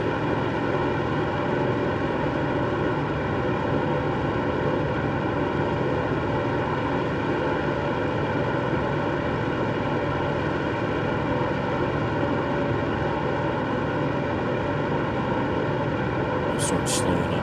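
Grumman Albatross seaplane in flight in Microsoft Flight Simulator 2024, a loud, steady droning propeller engine hum that holds constant throughout with no break, with a voice talking over it.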